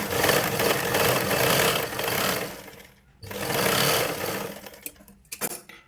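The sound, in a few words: sewing machine stitching blouse cloth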